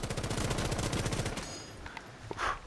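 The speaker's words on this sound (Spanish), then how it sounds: "Voy a disparar a ver si hay alguien." Rapid automatic gunfire in the Rainbow Six Siege beta rattles off in a fast, loud burst of evenly spaced shots for about a second and a half, then breaks into a few scattered, fainter clanks and impacts.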